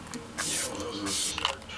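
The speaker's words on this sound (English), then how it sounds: "I'm going to actually spray this on my face." A Wet n Wild Care Bears facial mist spray bottle gives two short, close, bright hissing sprays about half a second apart, with quiet pauses around them.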